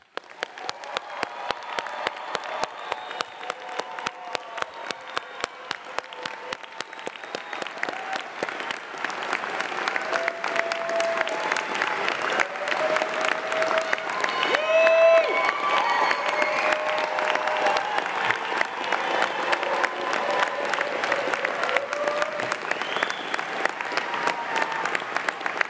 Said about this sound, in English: Please join me in offering a big round of congratulations and applause for all members of the Case Western Reserve University School of Law Class of 2024.